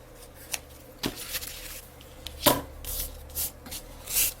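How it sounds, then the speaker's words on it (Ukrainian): Scissors cut a strip of foamiran craft foam for flower pieces, giving a series of soft, close snips and rustles spaced irregularly over a quiet room hum. "Нарізаємо відрізок шириною 4 см, а потім з цього відрізка будемо нарізати самі заготовочки."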